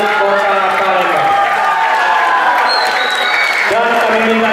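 Applause and cheering from the crowd at the closing ceremony of the South Sumatra Governor's rotating-trophy chess championship, steady and dense throughout, with voices and music-like tones mixed in beneath.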